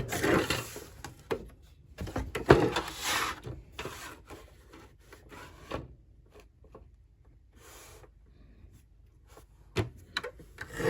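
Patterned craft paper being cut into pieces, heard as scattered close scraping, rustling and snipping strokes in irregular bursts, with quiet gaps between them.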